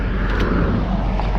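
A Chevrolet LT1 V8 idles steadily after a cracked number-eight spark plug was replaced and the plugs were gapped. A continuous low rumble runs close and fairly loud, with no talk over it.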